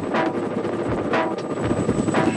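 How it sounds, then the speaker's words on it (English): Police helicopter flying overhead during a road pursuit, a steady loud rotor drone with a broad wash of wind-like noise and periodic swells, no voices. "the police know the best way to catch problem bikers is with a chopper"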